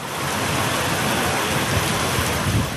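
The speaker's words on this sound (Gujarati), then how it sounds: "રાજસ્થાનના સિકરમાં આંધી સાથે વરસાદ ત્રાટક્યો" Steady, heavy rain with a dust storm pours in a continuous broadband hiss with a low rumble underneath, unbroken for the whole stretch and with no voices.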